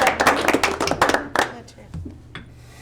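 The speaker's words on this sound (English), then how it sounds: "Don't we need to clap too?" A small group claps at a Silt, Colorado town board of trustees meeting: a short burst of close, uneven hand claps that tapers off within about two seconds, leaving quiet room tone with a faint voice.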